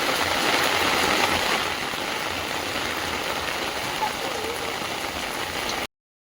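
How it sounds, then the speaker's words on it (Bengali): Continuous rain hisses steadily and fairly close, slightly heavier at first, then cuts off abruptly to silence. "বৃষ্টির জল একদম ঘরের মধ্যে ঢুকে আসছে"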